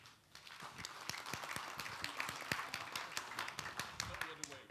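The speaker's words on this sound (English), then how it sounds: "Let's give each other a round of applause." A conference audience at a plenary session gives a round of applause: many fairly soft, quick claps in a steady patter, with voices faintly mixed in.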